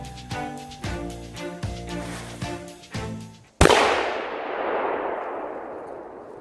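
A firecracker blowing up a hairspray canister: one sharp, loud bang that decays into a long fading roar and crackle, preceded by a series of rhythmic knocking thuds.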